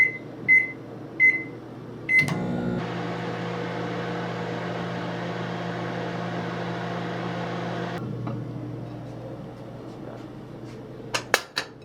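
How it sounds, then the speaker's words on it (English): A microwave oven is heating food: a few keypad beeps, then a steady close hum for several seconds that stops abruptly, followed by faint clicks and door clatter. "I'm gonna pop it in the microwave."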